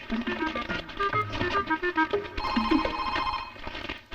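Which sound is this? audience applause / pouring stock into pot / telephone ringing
telephone ringing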